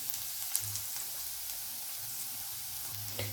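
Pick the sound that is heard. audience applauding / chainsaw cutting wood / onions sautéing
onions sautéing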